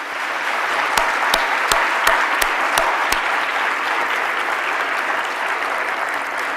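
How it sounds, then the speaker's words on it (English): A keynote audience bursts into sustained applause, a thick wash of clapping from a large crowd with several crisp, regularly spaced claps standing out close by early on. "join me at the outset in applauding the wonderfully inspiring Karen Pittman"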